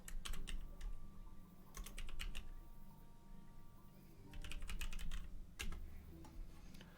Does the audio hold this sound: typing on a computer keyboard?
yes